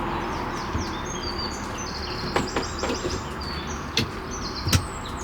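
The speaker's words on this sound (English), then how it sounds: "I love just opening the door and listening to the birds tweet." Scattered bird chirps and short tweets ring out over a soft outdoor hiss at Beamish Museum in the UK, a few sharp calls standing out near the end.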